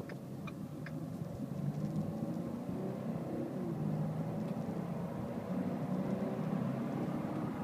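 Cabin sound inside a 2013 Ford Fusion Titanium driving at about half throttle, a steady, subdued low engine and road hum with faint ticking and no voices.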